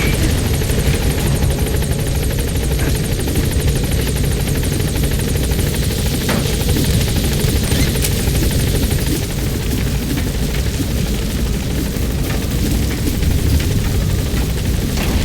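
The Pequod helicopter in Metal Gear Solid V roars loud and close throughout, a dense steady rotor and engine wash with faint rattling, sustained without pause as it sets down and lifts off again.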